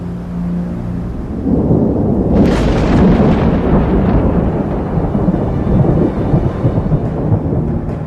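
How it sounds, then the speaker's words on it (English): Thunderstorm in the Arlberg mountains, a deep rolling rumble of thunder building after a second and swelling to a loud crackling peak before a long, heavy roar, with no voices. "If the wind turns to a northerly or northeasterly, the Arlberg is in for a storm."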